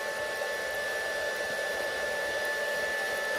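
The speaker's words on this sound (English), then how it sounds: "I don't know if my blower is just too weak" Air blower on a homemade waste oil burner runs as a steady, loud, even rush of air with no breaks or voices.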